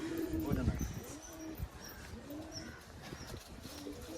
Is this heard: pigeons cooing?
yes